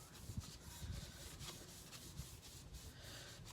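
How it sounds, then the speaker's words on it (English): A cloth soaked in alcohol wipes dust off an epoxy-coated pink glitter tumbler, giving a soft, continuous rubbing and swishing sound that stays close and quiet throughout. "now I'm going to take that alcohol and just wipe all that dust off"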